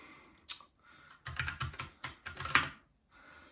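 Brisk bursts of keystrokes on a computer keyboard while an Amazon search is typed in, close and fairly clear, with short pauses between runs of taps.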